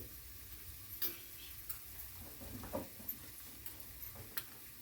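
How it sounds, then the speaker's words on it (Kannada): Masala spice powder roasting in a pan gives a faint, steady dry sizzle, broken by soft irregular ticks and scrapes of stirring, quiet and close. "ಎರಡು ನಿಮಿಷ ತನಕ ಹುರ್ಕೊಂಡು ಚೆಂದಂಗೆ ಹುರ್ಕೊ ಹುರಿದೈತಿ ಇದು ಮಸಾಲ ಮಸಾಲೆ ಪುಡಿ"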